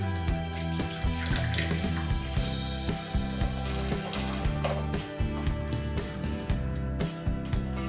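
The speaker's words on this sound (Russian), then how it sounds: "В миску наливаю 330 мл пива." Beer, about 330 ml, is poured into a large mixing bowl as a batter base, making a continuous splashing, fizzing pour with small gurgling bursts throughout.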